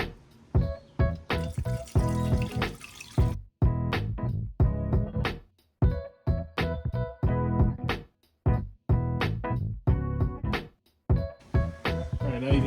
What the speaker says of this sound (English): we're just going to keep pounding the water to it until it starts puking out that little hole